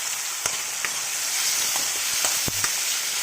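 Garlic, green chillies, tamarind and tomato frying in a pan for mint chutney, a continuous hissing sizzle with scattered sharp pops and clicks from stirring, alone and close.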